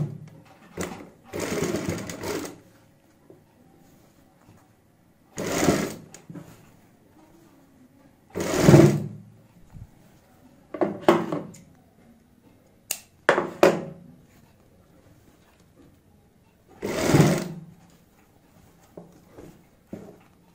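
A sewing machine stitches the point of a neck design in short, sharp bursts scattered across the stretch, close and distinct against near silence with no voices.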